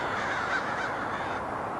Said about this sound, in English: It's like the Crows in Portland.